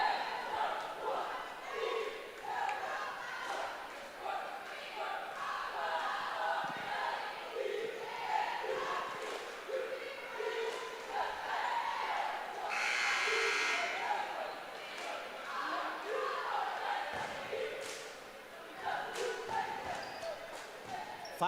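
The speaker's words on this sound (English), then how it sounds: "We can hear the cheerleaders down below cheering." Cheerleaders cheer from below the court at a girls' varsity high school basketball game, their voices mixing with a steady crowd roar, ball bounces and sneaker squeaks, plus a brief buzzer-like burst midway.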